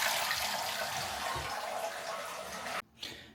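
A newly installed toilet cistern fills with water, a loud, steady hiss that cuts off abruptly near the end, followed by a brief trickle.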